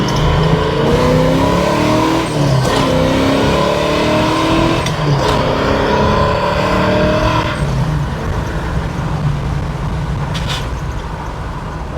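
A 1967 Camaro pulls hard on a test run near a shop. The loud, close engine climbs in pitch through several repeated surges, like gear changes, and roars steadily for the whole stretch.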